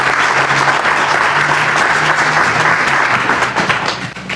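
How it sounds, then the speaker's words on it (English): A civic ceremony audience honoring a lieutenant junior grade in the City of Orange Township breaks into loud, sustained applause, a dense wash of clapping that holds steady and begins to thin near the end. "Please give a round of applause."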